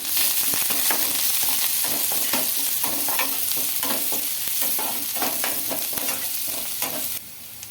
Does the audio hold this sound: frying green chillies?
yes